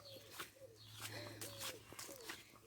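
A small bird in a garden gives several soft, short, cooing calls in quick succession. They are faint and close, over a low steady hum.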